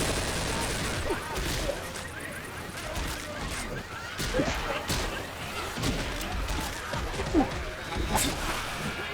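Rapid bursts of gunfire and impacts from Left 4 Dead 2 play continuously over dense, chaotic shooting, with excited players talking over the action.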